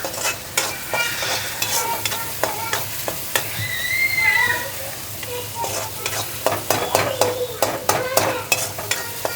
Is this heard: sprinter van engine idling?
no